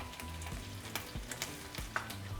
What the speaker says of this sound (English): And we're just going to fry for another minute.